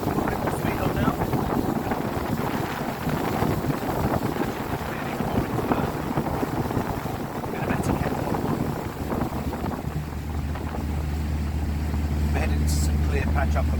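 Windy 32 Grand Tornado motorboat underway at around 20 knots, its engine drone steady beneath heavy wind buffeting on the microphone, rising slightly toward the end as speed is added; someone talks over it throughout.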